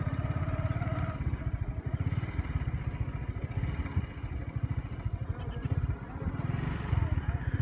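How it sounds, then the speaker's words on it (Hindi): A motorcycle rides along a muddy rural road after rain, its engine putting out a steady, rumbling low throb with a few small rev changes. A voice talks over it throughout. "मोटरसाइकिल चलाना भी इतने औखा है।"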